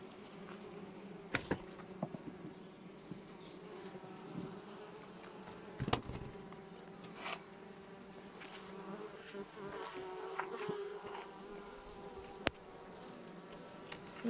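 Honeybees hum steadily in a dense, low drone at an open beehive during an inspection, with scattered sharp clicks and knocks from handling the frames. No one speaks.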